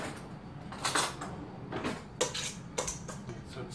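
A utensil stirs salsa seasoned with salt and pepper in a bowl, making a few soft scraping clinks in irregular bursts at close range.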